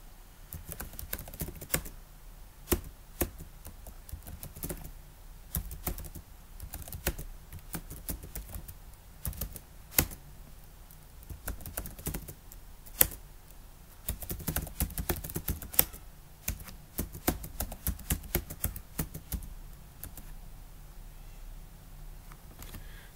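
Rapid, uneven bursts of key clicks on a computer keyboard as a name is typed during a software installation, close and crisp over a quiet room hiss, with short pauses between flurries.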